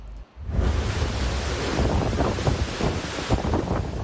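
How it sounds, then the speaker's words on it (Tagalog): Strong gusts of Super Typhoon Nando roar and buffet the microphone continuously at close range, a dense, loud rushing with surging peaks, heard alone without talk. "tila sumisipol ang hangin sa lakas ng paghampas nito sa mga puno't kabahayan"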